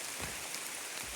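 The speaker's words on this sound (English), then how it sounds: "I love the rain." Heavy downpour on a mountain hiking trail in the White Mountains, a dense steady hiss of rain drumming close around, with no voices.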